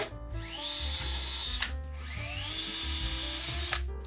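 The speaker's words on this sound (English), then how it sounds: "then I drilled in some pilot holes" A power drill boring pilot holes to attach furniture legs to a thrifted wooden dresser, two long whining runs that rise in pitch as the motor spins up, close and steady, with a brief pause between them.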